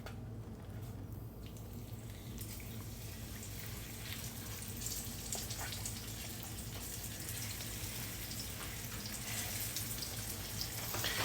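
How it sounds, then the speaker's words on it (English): Fish pan-frying in smoking olive oil, a soft continuous sizzle and crackle at a fairly quiet, steady level with a low background hum and no talk. "So we've got our olive oil starting to smoke, and I'm gonna go ahead and get this fish in."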